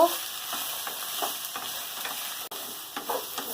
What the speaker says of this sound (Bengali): কিছু দিয়ে ভালো করে ভেজে নেব।